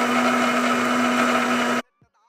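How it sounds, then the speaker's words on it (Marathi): A mixer grinder whirs steadily as it grinds chillies, garlic, sambar spice and fennel, a loud continuous motor hum that cuts off abruptly near the end. "आपण मिक्सरमधून काढून घेऊ।"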